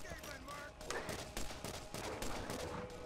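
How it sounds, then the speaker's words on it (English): Gunfire in the Borderlands video game crackles as a steady, fairly distant fusillade of rapid shots over a noisy mix, with a voice talking faintly underneath. "Are they still out there shooting at me?"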